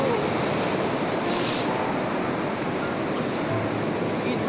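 Ocean waves wash onto a sandy beach on the Minamisoma coast, a steady, full roar of surf that never breaks off. No voices are heard.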